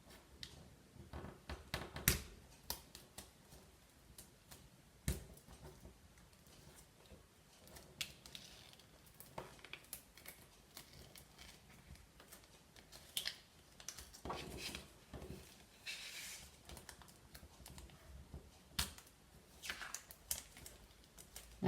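A Brother ScanNCut Canvas cutting machine cutting out letters, giving faint, scattered clicks and sharp ticks with small mechanical taps, spaced irregularly over quiet background noise.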